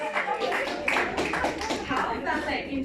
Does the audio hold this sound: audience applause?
yes